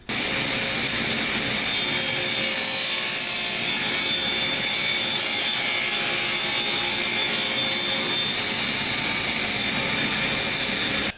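Table saw ripping leftover wood scraps into 1.1-inch strips for a cutting board, a steady loud whine of blade and motor running continuously for the whole span with no voices.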